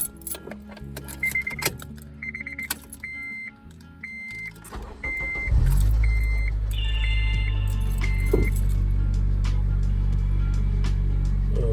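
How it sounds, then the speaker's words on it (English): A 2008 Honda Civic Si with check-engine code P2647 and a newly replaced V-Tec solenoid: close-up chimes and clicks from inside, then the engine cranks, catches and settles into a steady, loud idle that runs to the end. "I'm about to get in the car now, start it up"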